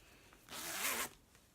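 A zipper on a handmade Sailor Moon brooch handbag is pulled in a single smooth close run lasting about half a second, quiet and near, with faint room tone around it.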